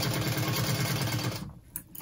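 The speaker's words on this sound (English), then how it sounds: "Then I'm just gonna go ahead and sew down all the edges." A sewing machine stitches the edges of a convertible backpack, with a rapid rhythmic whirring close up that runs steadily and then stops, leaving a few light handling sounds.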